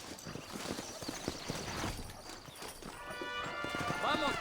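Horse hooves clip-clop steadily in the Red Dead Redemption video game, a continuous trotting rhythm with a horse whinny near the end and background game ambience.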